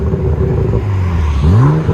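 A BMW Z4 with the 3.0-litre inline-six and Vibrant resonators, heard close as a loud, steady engine drone that swells into a short rising rev near the end.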